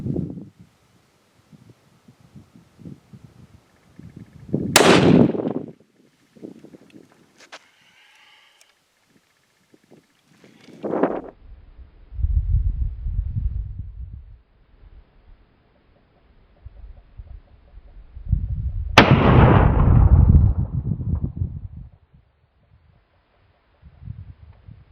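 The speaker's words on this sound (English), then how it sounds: "We're shooting at a distance of 200 yards. It's either a 22-250 or a 204 Ruger." Rifle shots, either a 22-250 or a 204 Ruger, fired at a target 200 yards out: two sharp loud cracks spaced well apart, each trailing into a rumbling report, with quieter handling noises in between.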